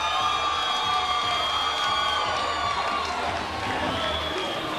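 Crowd at a cage fight roaring and cheering nonstop, a dense wall of excited voices with whoops rising over it, loud and close throughout.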